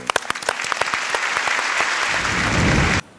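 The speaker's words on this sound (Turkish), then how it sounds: "O zaman alkışın en büyüğünü sakiler için rica ediyoruz efendim." Studio audience applause on a Turkish TV music show, a dense burst of clapping building steadily and cutting off sharply near the end.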